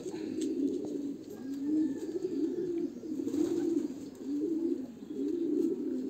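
A racing pigeon coos softly and repeatedly in low, throaty rolling phrases, close by, with a faint hiss of background noise.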